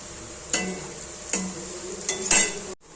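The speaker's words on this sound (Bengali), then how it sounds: "এটাকে নাড়াচাড়া করব।" Shredded potatoes frying with salt and turmeric in a pan are stirred with a utensil, giving a steady sizzle broken by several scraping clinks against the pan before abrupt silence.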